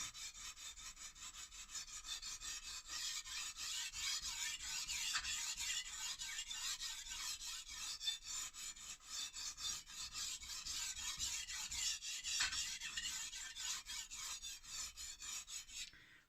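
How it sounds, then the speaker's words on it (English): A knife blade rubbed steadily on a small sharpening stone, a continuous close, quiet gritty rasp with fine rhythmic strokes and no talking. "I start to rub it on the stone"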